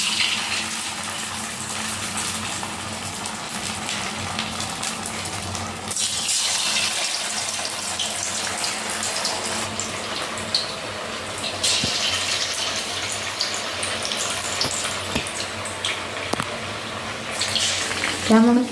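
Chicken pakora fries in hot oil in a wok, giving a loud, steady sizzling hiss that runs unbroken for the whole stretch, swelling slightly at points.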